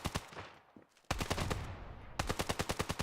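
Rapid bursts of automatic gunfire in the mobile shooter Standoff 2 during an esports match, with fast rhythmic shots, a brief lull, then louder sustained volleys close and crisp, without talk.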